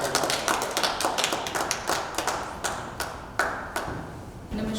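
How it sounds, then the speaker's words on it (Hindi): Sparse, slightly uneven clapping from a small audience at a Holi-themed Hindi poetry gathering, with sharp individual claps spaced through the moment rather than a dense roar, fairly close and moderate in level. "एक बार जोरदार तालियां बजाकर पूजा सिंह गंगानी।"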